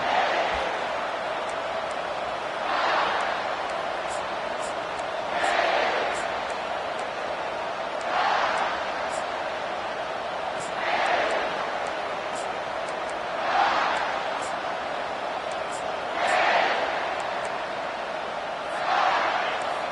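A stadium crowd in a Madden football video game roars steadily, swelling in periodic waves, while a commentator talks over it throughout.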